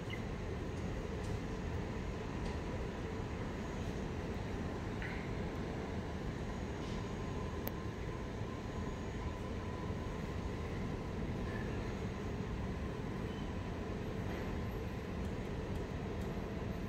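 The SkyTrain people mover at Atlanta airport arriving at a station, a steady low rumble of the approaching train with faint higher tones and a hum, heard continuously without voices.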